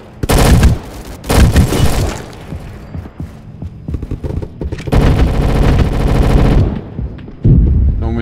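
Video game gunfire with M16 rifles and grenades, loud bursts of automatic fire in several volleys with short gaps between them.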